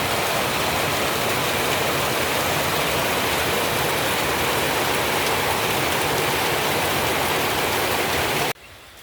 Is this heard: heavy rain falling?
yes